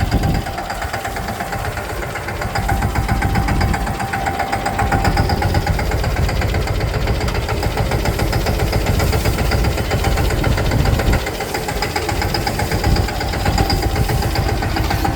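A farm tractor idles steadily nearby, its engine producing a continuous loud, low chugging rumble with a rapid knock-like pulse, running unchanged throughout.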